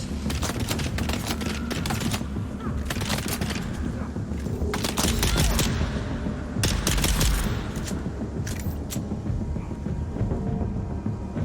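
Heavy gunfire in the video game Dune: Awakening: dense, sustained bursts of rapid shots with sharp cracks clustering in volleys over a steady rumble, loud and close, with no voices.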